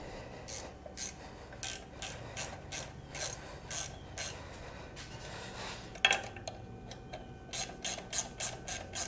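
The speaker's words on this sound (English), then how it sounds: "So we're gonna put the guard back on it. And we'll tighten her down." A ratchet wrench clicks in short, steady strokes as it snugs the guard bolts on a Kubota L2201 tractor. A heavier metallic clunk comes partway through, then the quick ratcheting resumes, close and clear.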